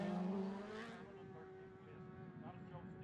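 Superbike racing motorcycles scream past at the Cookstown 100 road race, a high engine whine that fades as the bikes pull away, while a commentator talks over it.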